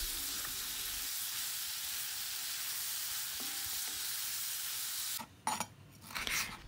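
Chopped meat sizzles steadily in a hot pan for about five seconds, a dense, even crackle with no voices, then the frying gives way to a few louder clattering knocks and stirring scrapes near the end.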